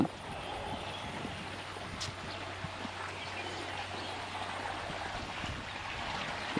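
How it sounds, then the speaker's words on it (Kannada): Quiet, steady rush of water welling up and overflowing from a temple pond, a soft continuous wash with a faint low hum underneath. "ಅಲ್ಲಿ ಉಕ್ಕಿ ಹರಿದೋಗ್ತಿದೆ ನೀರು"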